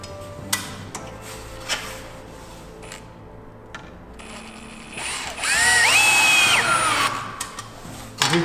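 A power drill drives a temporary screw into a flat-roofed garden shed. A few clicks and handling knocks come first, then the drill whines in one loud, rising burst lasting about two seconds before it stops.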